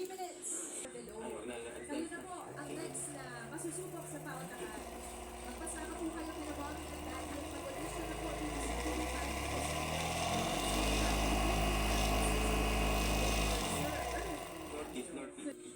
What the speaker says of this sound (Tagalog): Kontrolin ang pagpihit ng throttle para sa gustong bilis ng motor.